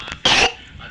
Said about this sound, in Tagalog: Umubo lang ako guys.